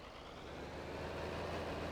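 A 4020 tractor pulling a mower in the video game Farming Simulator 22, its engine a steady low diesel drone that swells slightly louder, close and continuous with no talk.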